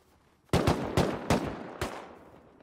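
An AK rifle fires in the survival video game Rust, five sharp gunshots in an uneven quick burst, each with a short decaying echo, fairly faint and with no talking.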